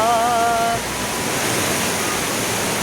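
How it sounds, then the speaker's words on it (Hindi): A fast-flowing mountain stream in Uttarakhand rushes toward the Mandakini river with a loud, steady roar of water that fills the whole clip. A brief whistling tone sits on top at the start. "देखो भाई कल कल करती हुई धारा, मतलब बहाव इतना तेज़ है इसका"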